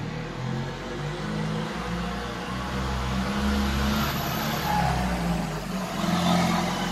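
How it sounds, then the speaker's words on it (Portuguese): A truck loaded with wood passes by on a nearby road, a steady engine rumble that swells and fades gradually over several seconds, heard alone without speech. "É o caminhão do Madruga"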